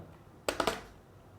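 Three quick keystrokes land in a tight burst on a computer keyboard while someone types a heading into an Excel payroll spreadsheet. The clicks are crisp and fairly quiet against a soft room hiss.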